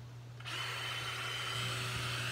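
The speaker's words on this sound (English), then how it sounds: "That's a power drill." A power drill starts up after a brief quiet moment and runs at a steady high-pitched whine close by, continuous and loud to the end, with no talking.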